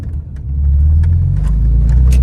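A car engine drones and rumbles while driving, rising slightly as it pulls along, loud and close with a steady low hum.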